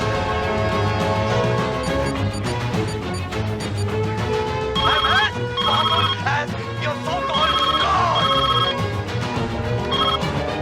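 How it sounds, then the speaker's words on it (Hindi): A telephone rings loudly in a dramatised murder trial scene, its repeated electronic bell tones sounding against busy music and background sound. "साहब डॉक्टर अस्थाना का फोन है"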